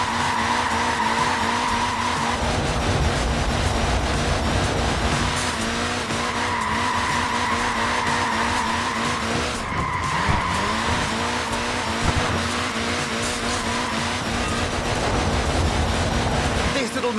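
A short-wheelbase, front-wheel-drive Mini in the racing game Forza Horizon 4 skids with long, continuous tire squeals over a droning engine, the sliding rising and easing repeatedly across the stretch.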